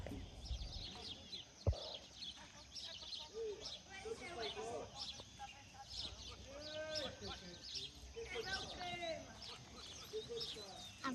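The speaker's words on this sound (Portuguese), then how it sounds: "É o passarinho." Small bird chirping in short repeated calls at a cattle roundup outdoors, fairly faint amid wind noise and a sharp knock, with people talking at times.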